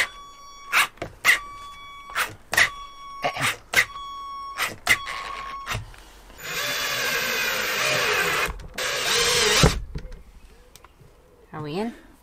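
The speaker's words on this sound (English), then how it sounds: "Gonna have to use the green drill." A green power drill drives screws into the framing of a Sprinter/Crafter van while a bench seat is built, giving several short whirring bursts, then a longer louder run, with people talking nearby.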